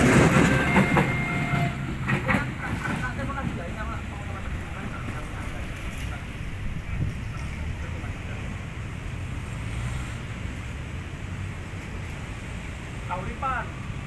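Kahuripan passenger train from Kiara Condong to Blitar rolling past level crossing JPL 739 on Jalan HOS Cokro near Yogyakarta International Airport: a continuous broad rumbling roar with a few bright squeals and clanks near the start and end.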